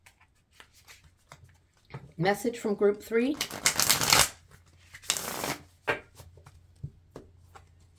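Tarot cards riffle-shuffled up close in a series of loud, papery bursts, with a person talking before and between the shuffles.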